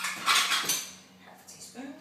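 Measuring spoon clinking among dishes and cutlery in a kitchen while waffle batter is prepared, with a few light metallic rattles and clatters up close, fading to quiet handling.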